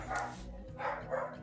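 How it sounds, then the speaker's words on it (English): A household dog lets out three short, sharp barks in quick succession indoors, fairly close and moderately loud, with no talking. "Why is it that every time I start fucking filming, Bella starts barking?"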